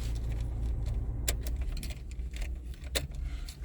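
Key turning in the ignition of a 2015 Nissan Sentra, close metallic key jangles and clicks over a low steady hum from the car, a couple of sharper snaps standing out.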